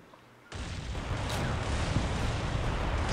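In a Cold War tactical battle game, a tank shell punches through a tank's front hull with a sudden heavy boom, then a loud, sustained rumbling roar that swells and holds afterward.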